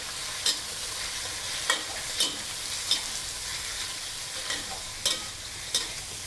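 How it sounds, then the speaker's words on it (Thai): Squid and shrimp stir-fried over high heat in hot pork fat in a wok, a steady close sizzle broken by sharp regular scrapes of the spatula, no voices. "น้ำมันร้อนเราก็จะใส่หมึกกับกุ้งค่ะลงไป"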